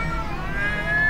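A cat meows loudly and continuously in a short, sustained, strained-sounding cry with no talking over it, heard at night inside a home.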